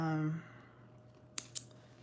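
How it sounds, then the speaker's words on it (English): Sharp scissors cut through denim jeans in two crisp, quick snips close by, following a short fading hum. "These scissors are like super sharp, sharper than my"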